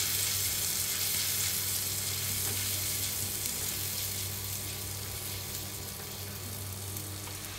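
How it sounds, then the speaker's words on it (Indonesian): Ground spice paste sautés in five tablespoons of cooking oil for chicken opor, a dense, steady sizzle and crackle close up, with faint stirring and no talk. "Tumis bumbu yang sudah dihaluskan dengan 5 sendok makan minyak goreng."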